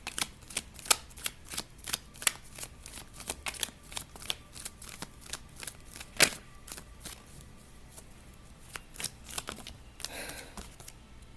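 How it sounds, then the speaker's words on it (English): Tarot cards riffle and snap through repeated shuffles, a rapid string of crisp close-up slaps and flutters with brief pauses, ending in a softer rustling burst. "Cards are wanting a lot of shuffling right now."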